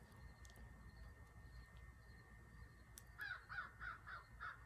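A crow caws outside, a run of five quick harsh calls in a row near the end after quiet room ambience, fairly close and alone with no talk.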